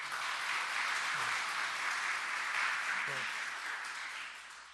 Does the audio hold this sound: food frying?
no